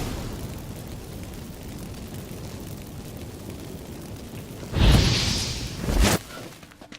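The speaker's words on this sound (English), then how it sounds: "Get ready for some magic fireworks. Once I activate the incense," Magic fireworks set off by activated incense in the Witcher 3 video game: two loud bursts, the first a roaring eruption that trails off and the second a short sharp pop, over a steady game ambience.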